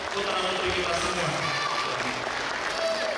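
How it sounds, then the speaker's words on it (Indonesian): An audience claps steadily through a school year-end assembly for Quran memorization students, a continuous, even spread of applause heard at moderate distance without talk. "Berarti sudah boleh tepuk tangannya untuk putra putri kita semua."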